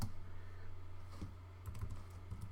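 Rapid, quiet typing on a computer keyboard while writing code, a steady run of soft key clicks over a low constant hum, no voices.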